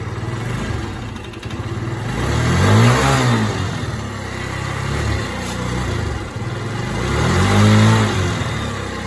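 A GY6 scooter engine with a transmission problem revs up twice on the throttle, rising and falling in pitch over a steady idle, close and loud with no talking.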